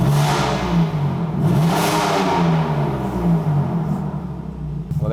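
A Stage 3 tuned BMW M4 CSL engine revving hard with its exhaust valves open, a loud, close, sustained roar that swells and falls through several rev sweeps with no talking over it.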